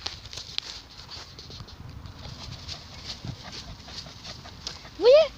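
A large dog fusses at someone's feet, with soft pattering scratches running throughout and a brief rising whimper near the end, close and fairly quiet.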